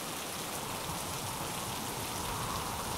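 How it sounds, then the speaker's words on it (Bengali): Heavy rain pours down in a steady, dense roar that fills the whole stretch evenly, with no voices. "একটু পরে শুরু হলো তুমুল বৃষ্টি, সেই সাথে বজ্রপাত"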